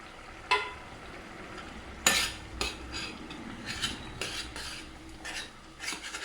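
Potato being mashed and stirred into egg curry in a pot, giving scattered scraping, clinking utensil strikes against the pot, a few sharper knocks among softer stirring, close and moderately quiet, with no talking.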